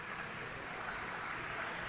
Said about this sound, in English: She gets standing ovation from the crowd as she comes out.